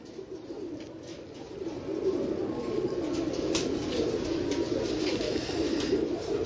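Pigeons kept by a fancier in Karachi coo softly and continuously over a steady low murmur, with no voices.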